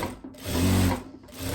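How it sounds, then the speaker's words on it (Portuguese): Sewing machine stitching a seam on a blouse, one short close run of humming, rattling stitching that swells and then eases off, with no talk. "é melhor passar essa costurinha aqui"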